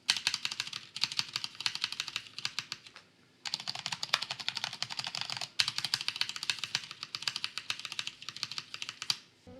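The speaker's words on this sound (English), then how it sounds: "G80-3000S from Cherry here comfortable to type, just that the sound profile is on the loud side" Brisk typing on a Cherry G80-3000S TKL mechanical keyboard, fairly loud, close-up clatter of rapid keystrokes in bursts with two brief pauses, no voices.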